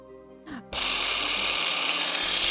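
Cordless battery-powered garden shears switch on after a brief quiet moment with a small clack, then run with a steady, close, buzzing whir until the end.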